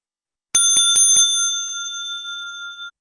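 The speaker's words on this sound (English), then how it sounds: "another bell when your time is up sounds like this" A timer bell at an environmental forum signalling that time is up, struck four times in quick succession, then left ringing with a loud, sustained metallic tone that fades slowly and stops abruptly.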